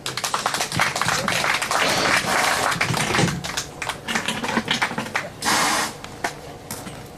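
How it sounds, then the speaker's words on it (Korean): Audience applause welcoming a speaker at a bust unveiling ceremony for General MacArthur, dense continuous clapping from a crowd that swells and lingers for several seconds. "큰 박수로 모시도록 하겠습니다."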